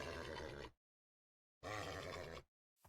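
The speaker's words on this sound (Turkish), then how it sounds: "Atı nasıl evcilleştireceğiz?" A horse in the Minecraft video game neighs twice in short, loud, close bursts with silence between, followed by the start of a third call.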